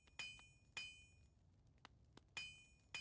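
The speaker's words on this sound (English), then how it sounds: "I hear a hammer." Metal ringing under hammer blows in the video game Hollow Knight, five sharp clanging strikes at an uneven, unhurried pace with bright metallic ring-outs, plus a couple of fainter taps between them.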